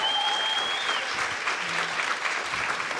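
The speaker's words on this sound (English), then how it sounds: "Let's give a round of applause to our panelists." An audience applauds the panelists at a real-estate masterclass session. Steady, even clapping fills the room at moderate level throughout, with no pauses.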